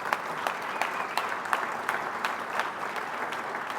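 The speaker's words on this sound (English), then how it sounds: "how about a big round of applause for our panel" A studio audience claps for a panel of political discussants, moderate-sized applause with distinct individual claps in a steady patter, no one speaking.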